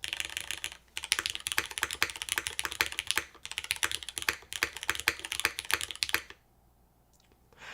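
Fast, continuous typing on a mechanical keyboard with a single-sided gasket mount, close-up bright clacks in a dense rapid rhythm for about six seconds, then stopping into near silence.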